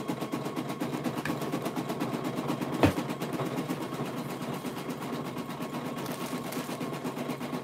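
An embroidery machine stitches a patch in a 6x9 hoop with a fast, steady mechanical chatter of needle strokes. One sharp click sounds partway through, and no one speaks.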